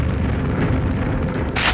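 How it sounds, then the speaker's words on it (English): A grenade launcher explosion in the video game Quake: a loud, continuous, rumbling boom fills the short moment, followed by a brighter burst at the very end. "I'm a really good shot with the grenade launcher."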